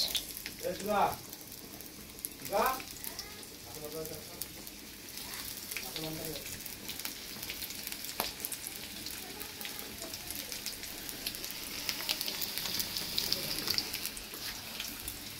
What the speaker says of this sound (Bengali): তেলটা হালকা গরম হলে আমি দেবো শুকনো লঙ্কা, তারপর দেবো পেঁয়াজ